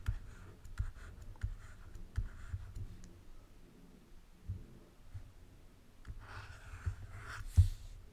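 During a genetics lecture, a diagram is drawn by hand, producing faint, intermittent scratchy strokes and taps in a quiet room, with a brief louder burst of scribbling toward the end.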